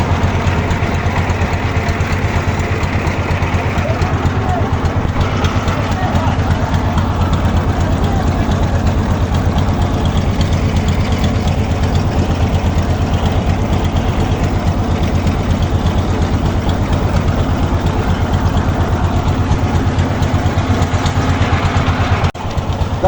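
An engine-driven boat carries passengers along a river on a trip to Ratargul and Sada Pathor, with a loud, continuous low engine drone running steadily throughout.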